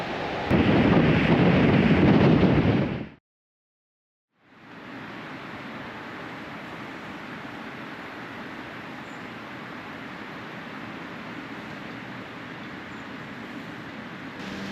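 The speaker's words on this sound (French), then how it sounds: "il y a beaucoup de vent" Strong wind by the Baltic Sea roars into the microphone as a loud, dense rush, breaks off for a moment, then returns as a steadier, softer blustery hiss.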